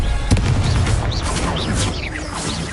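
A Confringo fire spell goes off in Hogwarts Legacy, a loud booming blast at the start followed by a dense, rumbling wash of crackling game effects with faint whistling tones above.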